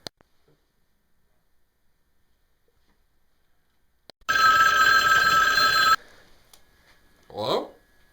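A telephone rings once in a loud, buzzing burst lasting under two seconds after near silence, followed by a brief voice.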